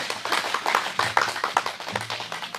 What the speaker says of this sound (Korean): 해주시면 큰 박수로 맞이해 주시기 바랍니다